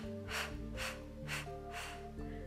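A person in a Pilates breathing exercise blows out forcefully in a few short bursts, a close, breathy exhale sound repeated about four times over a quiet background hum.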